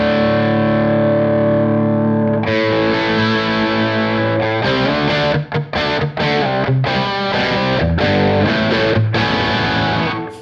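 Music run through the Rabbit Tape plugin by Safari Pedals, adding tape saturation and subtle wow and flutter; a dense, distorted, sustained mix plays loudly throughout with a few brief dropouts and stop-start chords in the second half.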